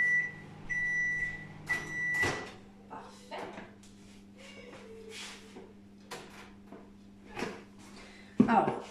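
A microwave oven finishing with a short run of high, even beeps, followed by quiet kitchen handling sounds, a door or cupboard clunk and scattered clicks, with occasional speech between.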